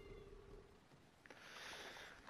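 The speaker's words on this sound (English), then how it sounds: "Cat." A cat meows and howls in a drawn-out, rising wail, close and fairly loud, following a quieter stretch of room noise.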